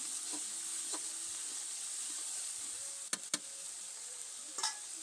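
Ground masala paste of onion, garlic, green chili and cumin sizzles steadily in a pan while it is stirred, with a few sharp scraping clicks of the spoon near the middle and end, and no one speaking.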